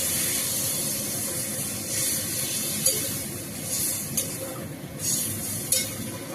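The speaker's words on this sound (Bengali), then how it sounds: "জল দিয়ে দেবো।" A hot cooking pan with taro hisses and sizzles steadily after water goes in, with a few brief spurts of steam rising over the constant frying noise. No one speaks.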